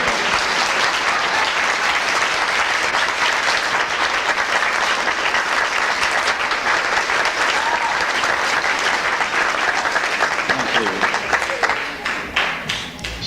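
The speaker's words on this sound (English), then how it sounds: "you know that Shana asked everyone for a nice round of applause for the teachers." Sustained round of applause from a crowd of guests at a bar mitzvah celebration, dense and steady for most of the stretch before thinning into scattered claps near the end, with faint voices beneath.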